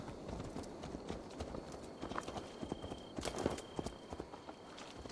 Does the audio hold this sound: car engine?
no